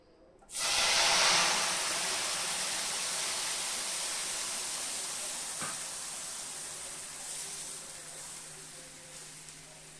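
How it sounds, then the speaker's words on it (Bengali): Katla fish curry gravy with potato and drumstick pours into a hot pan, starting with a sudden loud sizzling hiss that slowly eases into a steady simmering fizz. "এখন আমি ঝোলটা ঢেলে দেব।"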